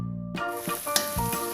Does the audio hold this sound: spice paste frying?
yes